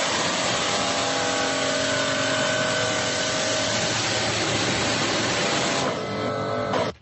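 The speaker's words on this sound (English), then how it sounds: "I'm going to say pressure washer" A pressure washer motor drones continuously at an even, close, loud level with a steady tonal whine before stopping abruptly at the end.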